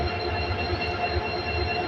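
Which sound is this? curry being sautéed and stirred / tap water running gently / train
train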